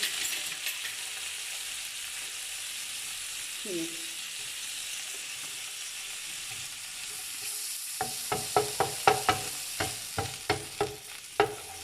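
Butter and chopped coriander frying in a pan, starting as a faint low sizzle, then crisp clicking stirs and clinks of a utensil grow louder and more rhythmic toward the end.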